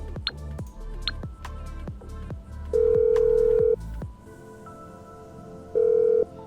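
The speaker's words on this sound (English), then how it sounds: "What happens if we phone Amanda?" Phone call ringing out inside GTA 5: two loud sustained ringback tones separated by a pause, with steady ticking clicks and light game ambience underneath.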